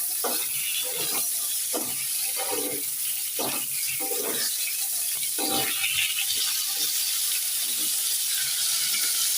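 Slices of pointed gourd (potol) fry in a pan with a steady hiss, punctuated by a regular series of scraping stirs, close by and alone without talk.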